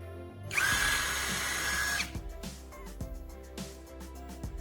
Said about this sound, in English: I'm using a drill to carefully create a hole.